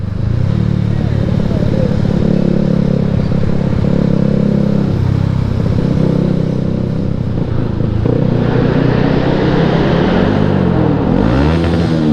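A motorcycle on a street passes close by, its engine droning loud and steady throughout while someone talks over it.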